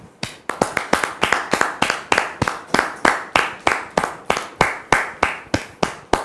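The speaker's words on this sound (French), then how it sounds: "Merci donc de recevoir Dame Martine sous vos applaudissements" A studio audience on a talk show claps in unison to welcome a guest, a steady, evenly spaced rhythm of sharp, loud claps at about three per second, continuing throughout.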